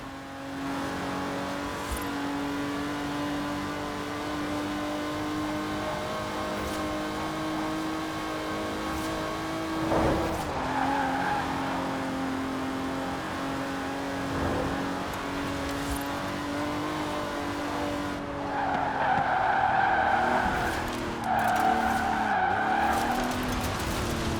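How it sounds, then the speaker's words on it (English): An Aston Martin DB5 Vantage, a 1960s British grand tourer, is driven in the racing game Forza Horizon 4. Its engine drone rises and falls steadily, with a sharp burst near the middle and tire squeals and revving toward the end. "The Aston Martin DB5 Vantage was the quintessential Grand Tourer of the 1960s, combining British engineering and Italian design"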